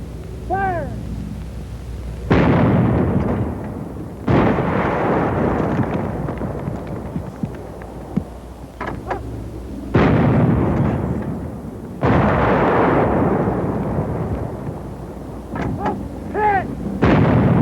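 Heavy artillery guns fire at concrete emplacements, producing loud, booming blasts spaced a few seconds apart, each with a long rumbling decay. Shouted commands come between the shots.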